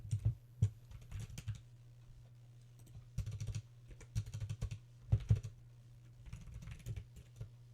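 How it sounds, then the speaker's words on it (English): Computer keyboard typing that glitches and bugs out, heard as bursts of clicky keystrokes in several clusters with short pauses between them, close and clear with no talking. "My keyboard's bugging out."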